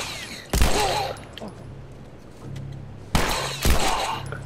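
Gunfire in The Last of Us Remastered, two loud, sharp bursts of shots a few seconds apart with low rumbling between them.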